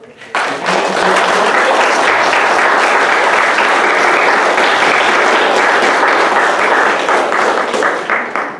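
A crowd applauding at a city council candidates forum, with loud, dense clapping that swells quickly and holds steady for several seconds before tapering slightly at the end.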